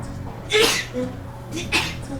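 A single quick sneeze in the role-playing video game Shadowrun Returns, a short burst followed by a smaller second one, close and fairly loud, over quiet background music.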